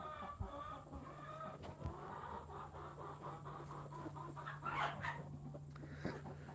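Ameraucana and black copper Marans chickens cluck and chatter nearby in a steady, busy flock, with a constant low hum running underneath.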